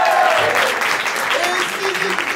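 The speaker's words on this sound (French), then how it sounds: "On peut applaudir Pierre qui fait la régie ce soir." Applause from spectators at an open-stage music evening, a dense burst of clapping that holds steady for a couple of seconds, with a voice briefly heard over it.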